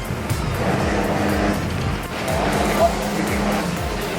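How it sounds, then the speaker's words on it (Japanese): A small motor boat runs fast over waves after leaving a huge cruise ship, its engine giving a steady rough drone under continuous wind and splashing water, with a few voices faintly in the mix. "バカでかい船からちっちゃい船で緊急脱出します"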